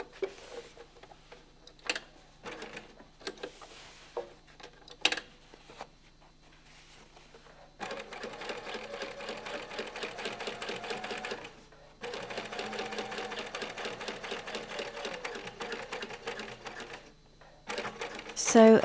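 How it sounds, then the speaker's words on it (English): A domestic sewing machine stitches back pockets onto a pair of jeans in two sustained rapid bursts, preceded by brief handling taps and clicks, with a short reverse run at the end. "Sew a few stitches in reverse to secure."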